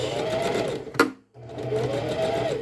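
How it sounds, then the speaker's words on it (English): Home sewing machine stitching pajama pant fabric, a steady near motor hum that stops briefly with a click and then resumes its even stitching drone. "I'm using my sewing machine as a guide."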